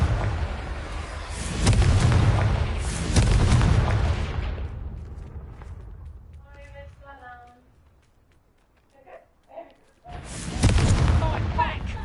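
Booming blasts of the Confringo fire spell in Hogwarts Legacy, two loud bursts early, then quieter fighting sounds and brief vocal cries before another heavy blast.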